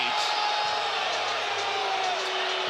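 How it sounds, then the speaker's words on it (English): Basketball crowd at a college game between North Carolina and Stanford, murmuring and groaning in protest after a replayed foul call, a steady roar of many voices spread across the arena. "the crowd reacting to the replay shown on the video board didn't agree with the call"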